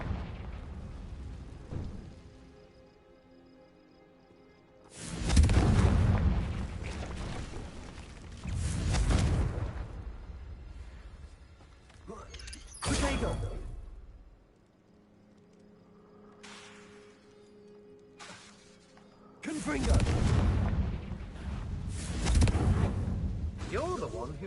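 Confringo blasting spells burst in Hogwarts Legacy, several heavy booming explosions spaced several seconds apart, each swelling and rumbling before fading, with a spoken voice heard in the quieter stretches.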